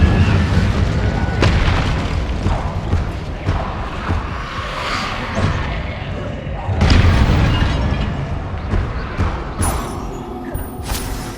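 The Incendio fire spell in the video game Hogwarts Legacy goes off as loud, heavy booms and fiery bursts with whooshing sweeps, repeating close together over a rumbling game soundscape.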